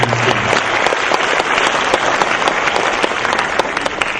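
Audience applause at an awards ceremony and valedictory function, a dense, loud burst of clapping from a large crowd that holds steady for several seconds.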